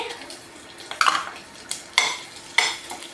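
Dried red chillies frying in a pan with a low sizzle, broken by several sharp metallic clinks and scrapes of a spatula stirring against the pan, close and distinct.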